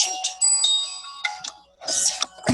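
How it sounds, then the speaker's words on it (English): A mobile phone ringtone chimes in a short electronic melody of bright sustained tones, moderately loud and close, broken by a few rustling handling noises and a brief burst of noise near the end. "it's my phone ringing"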